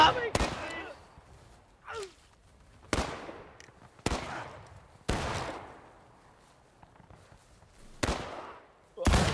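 Revolver shots in the Civil War shooter War of Rights ring out as sharp, loud cracks spaced a second or two apart, about eight in all, each with a short echoing tail and no talk.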